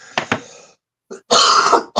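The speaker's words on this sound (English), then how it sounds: "Excuse me, I need to cough." A person clears their throat twice in quick rasps, pauses, then lets out a longer, harsher cough followed by another start.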